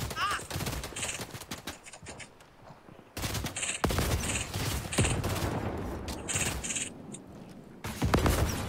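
Rapid gunfire bursts from the video game Fortnite crackle in repeated volleys, loud and close, with a brief lull near the middle before the shooting resumes.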